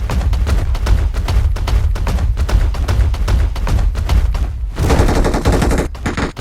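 Rapid automatic gunfire from a PUBG Mobile fight, loud and dense, with bursts running almost continuously and a brief change in texture near the end.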